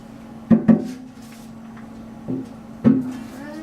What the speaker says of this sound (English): And then we're going to place the cylinder back in.